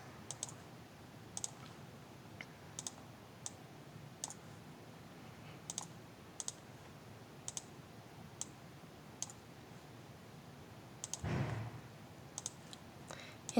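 A computer mouse being clicked while letters are recoloured in Scratch: single, sharp clicks spaced irregularly over a quiet room hum, with one brief rustle near the end.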